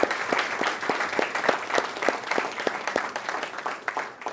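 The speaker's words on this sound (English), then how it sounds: "if we can give the faculty involved a big round of applause" An audience applauds the faculty at a college pitch event, steady dense clapping with sharp individual claps standing out, moderately loud and continuous throughout.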